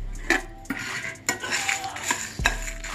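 Coriander seeds dry roast in a pan, with a spatula scraping and clinking against the metal in several short, close strokes.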